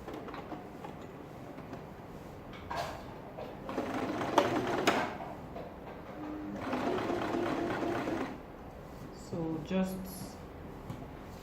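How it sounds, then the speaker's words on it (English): A sewing machine stitches a ladies' shirt collar at a half-inch seam in quiet bursts of rapid whirring, with pauses, a handling noise near the end, and a voice speaking between runs. "I'm sewing at 1/2 inch"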